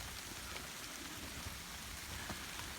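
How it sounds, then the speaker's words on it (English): Rain falling outdoors at an abandoned aggregate mine, a dense, even hiss of drops with scattered closer patters on surfaces, steady and moderately loud with nobody speaking. "So it's definitely worth it to be out here in the rain."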